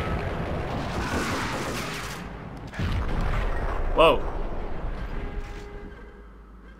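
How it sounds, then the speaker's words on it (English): Explosions rumble in the Max Payne video game during a self-destruct sequence, a loud, continuous roar with a sharper burst near the end, while someone talks and exclaims over it. "That's a lot of explosions."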